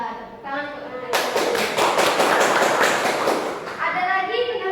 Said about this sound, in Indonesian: Tepuk tangan untuk Nak Rinda